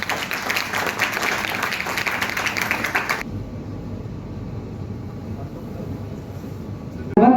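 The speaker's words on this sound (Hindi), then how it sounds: "जोरदार तालियां बज जाए भाई।" Loud, dense audience applause fills the opening three seconds at a folk festival brochure launch, then cuts to a quieter room murmur with a brief burst at the very end.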